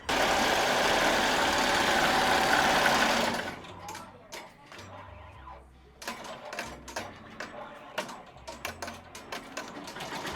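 Embroidery machine sewing a tack-down stitch on fabric for holiday designs: a loud, close, steady mechanical whirring for about three seconds, then it stops and quieter clicks and thumps follow.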